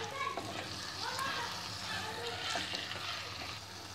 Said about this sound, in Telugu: ఈ కొత్తిమీర కూడా వేసి ఒక 2 మినిట్స్ కుక్ చేద్దాము